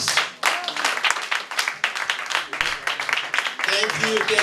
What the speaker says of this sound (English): big round of applause for the most prolific, progressive, passionate Ambassador